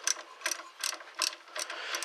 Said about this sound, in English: I got my little tiny socket there to do that with.